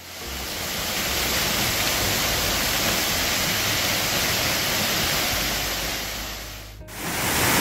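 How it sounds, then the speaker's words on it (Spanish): A waterfall in a conifer forest near Mazamitla, Jalisco roars as a loud, steady broadband wash of falling water, close and unbroken, briefly dipping near the end before surging back. "en esta zona no solo podremos encontrar la cascada"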